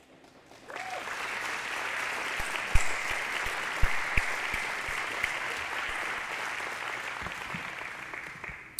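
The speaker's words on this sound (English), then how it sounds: "Let's have another round of applause for the Brigadier." Sustained applause fills a hall during a Kentucky Aviation Hall of Fame enshrinement ceremony, starting abruptly after a brief quiet moment and holding steady for several seconds with a few sharper claps standing out.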